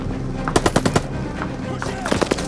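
Machine-gun fire rattles in Call of Duty: Vanguard, set in the Operation Tonga mission, with two loud, close bursts of rapid shots separated by a short pause.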